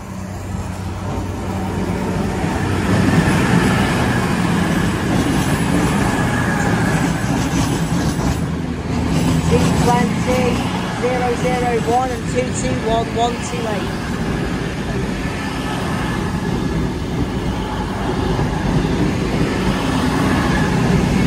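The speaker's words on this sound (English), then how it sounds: "here's the passing service to Manchester Piccadilly from Reading" CrossCountry passenger train bound for Manchester Piccadilly from Reading passes through Stone station, a steady loud rumble lasting throughout with brief higher wheel tones midway, and people talk over it.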